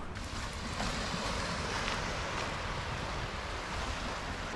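Waves wash steadily onto a small beach on Lake Superior, a continuous rushing surf with wind noise buffeting the microphone and no voices.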